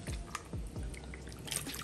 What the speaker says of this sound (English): You're going to put the beef broth in it and swirl it around, right?